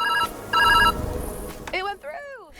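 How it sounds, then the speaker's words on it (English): In the puzzle video game Viewfinder, a phone rings twice with a bright electronic trill, fairly loud and close, followed by a short burst of warbling, rising-and-falling tones. "In this stage, first answer the phone call."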